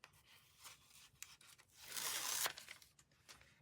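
Paper backing peels off a fabric appliqué face for a sloth quilt, a close, quiet ripping and crackling that swells into one longer tear in the middle, with small scratchy rustles before and after.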